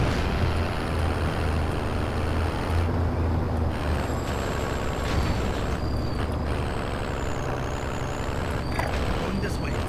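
Heavy vehicle engine drones steadily in a video game duos match, a continuous loud rumble with brief hissing bursts layered on top, while players talk over it.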